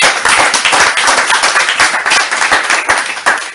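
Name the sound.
congregation applauding in church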